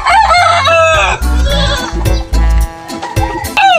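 Rooster crowing among a flock of chickens at a backyard poultry pen, with repeated loud, close crows overlapping clucking and bleating-like calls, constant busy farmyard noise throughout.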